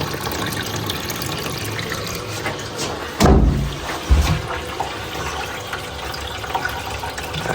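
A toilet cistern refills through a worn filler valve that needs replacing. The water hisses and trickles steadily throughout, with a couple of brief thumps partway through. It is close and continuous, with no voices.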